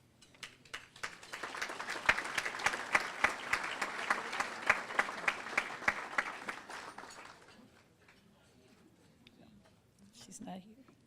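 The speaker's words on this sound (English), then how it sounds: "Please join me in applauding and bringing to the stage these 4 scholarship recipients" Applause for scholarship recipients at a gala, a crowd clapping in a quick steady patter that builds and holds for several seconds before fading out, followed by quiet room tone.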